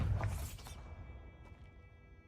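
Bombarda spell blast in the Hogwarts Legacy video game: a sharp explosive burst with shattering debris at the start, decaying into faint rumbling and metallic ringing tones, no talk.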